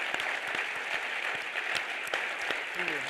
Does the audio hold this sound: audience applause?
yes